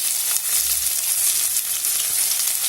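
Finely chopped onion hitting hot oil in a pan for an echor chingri dish: a loud, dense, continuous sizzle with a bright hiss throughout, close and steady, no talking.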